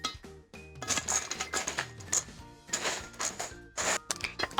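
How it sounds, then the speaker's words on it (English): Oatmeal and raisin chicken-treat mixture is stirred in a bowl, giving repeated clinks and scrapes of utensil on dish over light background music. "we're gonna give this a really good stir and incorporate all the"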